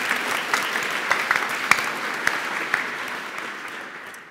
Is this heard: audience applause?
yes